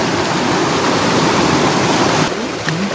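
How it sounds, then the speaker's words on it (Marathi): A strong stream of rushing water at night, a loud, dense, continuous roar that dominates throughout, easing slightly near the end. "झोत आहे तेवढा पाण्याचा."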